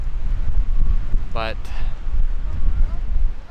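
Strong, chilly wind on the Oregon coast buffets the microphone in a low, continuous roar, with a brief voice breaking through partway.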